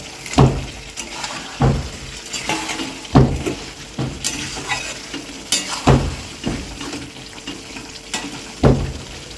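Fish pieces simmer in a Manchurian gravy while being stirred, a low bubbling sizzle punctuated by repeated spoon scrapes and knocks against the pan roughly every second, close up with no speech.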